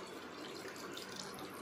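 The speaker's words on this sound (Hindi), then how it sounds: "अभी मैं ऐड करूँगी इसमें पानी।" Water poured into a cooking pot while making boiled chicken with tomato, a continuous close splashing stream of even loudness for the whole moment.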